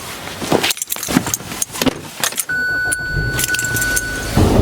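Someone gets into a car to run errands: keys jangle loudly up close amid door and seat clatter, then a steady engine hum and a chime settle in near the end.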